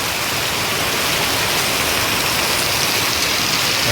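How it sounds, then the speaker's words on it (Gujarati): Heavy rain pours down in a rural village, a loud, dense, unbroken hiss of falling water lasting the whole stretch with no voices. "વરસાદ ચાલુ થઈ ગયો છે"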